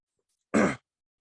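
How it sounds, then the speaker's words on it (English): A single short, harsh cough from one person, close to the microphone and alone in silence. "I'm just coughing to death"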